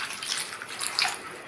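Water poured into a pan over chopped chayote pieces, a brief soft splashing and trickling stream, close and fairly quiet, with no voices.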